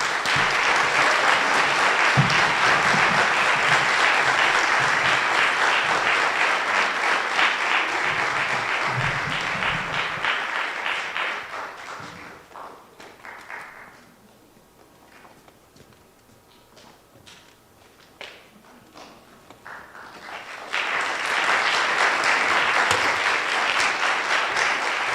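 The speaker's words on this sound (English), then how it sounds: "a big round of applause" An audience at a Greeley West high school strings concert applauds loudly for several seconds. The clapping fades to near quiet, then swells again into a second strong round.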